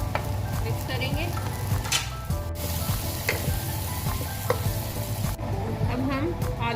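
Softened potatoes with spices and tomatoes sizzle in a pan for aloo curry as a spoon stirs them, steady frying hiss with intermittent scraping and light clinks, close up and continuous.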